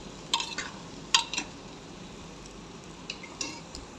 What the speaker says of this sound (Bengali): 2 মিনিট মতো চাল আর ডালগুলোকে ভাজবো ভালোভাবে